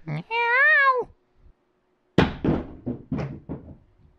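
A cat meows once, long and loud with a rising-falling pitch, then after a pause a run of knocks and thumps follows as objects are bumped and toppled nearby.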